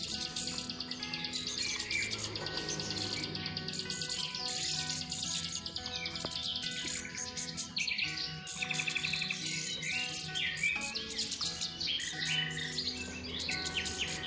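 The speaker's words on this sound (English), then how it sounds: "when it is hungry it will be marked by the distinctive scream of a baby Punglor bird" A hungry baby Punglor bird chirps and screams for food in a dense, continuous stream of high, shrill calls. The sound is close and persistent, with a buzzing, insect-like texture and no speech.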